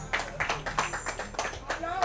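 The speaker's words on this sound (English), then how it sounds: "A round of applause, please." Scattered clapping from an audience at a sanitation and groundwater event greets an honored official, sparse uneven claps in small bursts with a speaking voice heard over them.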